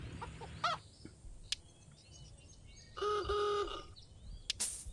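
Chickens cluck and chirp in the farming video game Hay Day, short bursts of cartoon fowl calls, one louder clucking run in the middle, over soft background game music and interface clicks.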